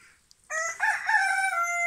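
A Silkie rooster crows loudly and close, a single drawn-out call rising then holding, preceded by faint clucking in a chicken coop.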